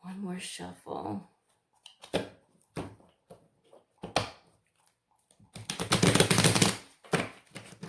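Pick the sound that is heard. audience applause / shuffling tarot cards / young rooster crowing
shuffling tarot cards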